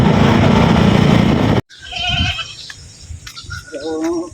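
A goat bleats in a rural meadow in a few wavering calls, close and fairly loud, after a burst of loud rustling noise, with people talking nearby.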